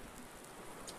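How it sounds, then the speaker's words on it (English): Heavy thunderstorm rain in the racing game Project Cars 2, a dense, steady hiss of downpour filling the whole moment at moderate level with no talk over it. "as you can see, it's throwing it down with rain."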